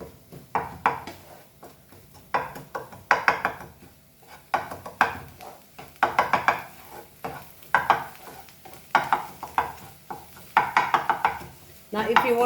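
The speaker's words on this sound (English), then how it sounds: "So now let's mix this to make our burji." Egg burji stirred in a frying pan over high flame, spoon scraping and tapping in irregular bursts over a soft sizzle, close and fairly quiet.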